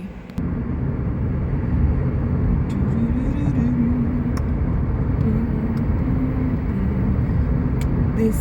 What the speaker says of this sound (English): right now we just sitting in a little downtown traffic